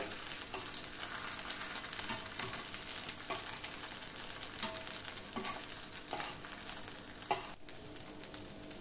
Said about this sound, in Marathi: चांगले खरपूस भाजून घ्यायचे आहेत आपल्याला, म्हणजे तळून घ्यायचे आहे। परतून घेऊया।